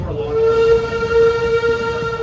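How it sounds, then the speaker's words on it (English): A train at Busch Gardens sounds a loud, sustained whistle-like tone with a steady rumble beneath, close and continuous throughout. "Shut up, train."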